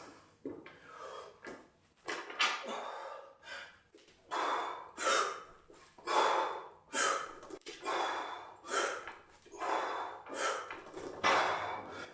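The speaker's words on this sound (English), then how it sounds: "So this is what the breathing will sound like." A man breathes with deliberately loud, forceful huffs while holding the bar overhead during push jerks, a rhythmic series of sharp close exhales and gasps with light knocks of equipment.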